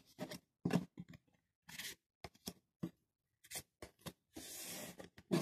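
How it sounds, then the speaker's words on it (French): Tarot cards are drawn and laid out for a reading, producing soft, close paper rubs, slides and shuffling scrapes in intermittent bursts separated by brief silences. "Alors, je vais tirer trois cartes."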